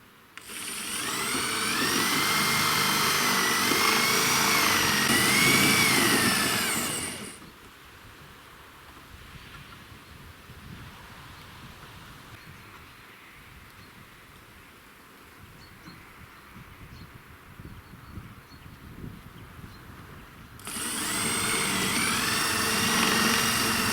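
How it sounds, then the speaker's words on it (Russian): A drill boring a hole through the wall of a house, beside an electrical line above and a gas pipe below, sounds as a loud, steady grinding whine in two bursts at the start and end, with a quieter lull between. "О, сколько тут еще сверлить-то."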